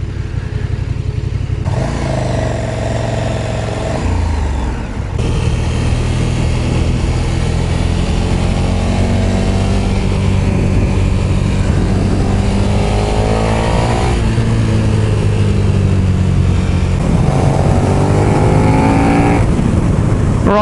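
A 2020 KTM Super Duke R ridden through traffic, its engine note rising and falling in repeated throttle sweeps, loud and close with wind rush, and no talking throughout.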